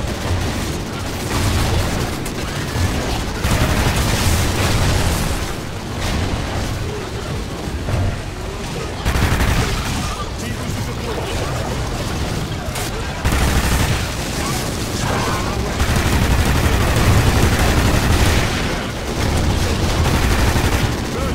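Sustained rapid automatic turret gunfire in Call of Duty Ghosts Extinction co-op on the Mayday map, loud and continuous with dense bursts and booms layered throughout the whole stretch.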